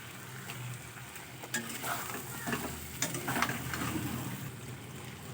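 Lentil dumplings (bori) frying with beans in a pan, a steady soft sizzle under scraping spatula strokes that come in uneven bursts, close and moderately loud.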